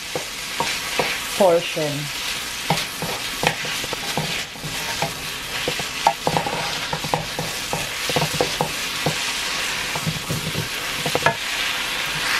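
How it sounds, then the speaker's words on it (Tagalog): Ground beef sautéing in a pan until browned, a steady close sizzle of frying meat broken by repeated scraping and stirring clicks of a utensil, with a brief spoken word near the start. "Just saute it until it turns brown"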